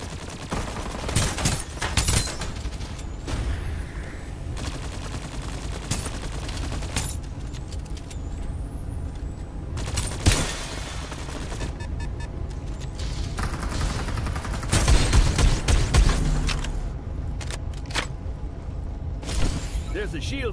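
Rapid bursts of gunfire from the Farlight 84 battle royale game crackle through the whole stretch, with sharp shots and heavier booms at about 10 and 15 seconds, over a steady game soundtrack bed with voices mixed in.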